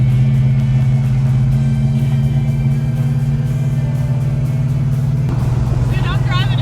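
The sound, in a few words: 1969 Dodge Charger driving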